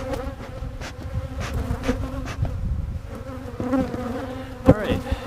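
Honeybees swarm and buzz steadily around an open hive during a beekeeping inspection, a dense close drone with a few louder passes near the end.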